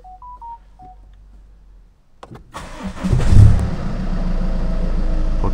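A Ford Focus 3 ST diesel fitted with a Stage 3 X37 turbo cranks and fires up after a few diagnostic beeps, settling into a loud, steady close-up idle.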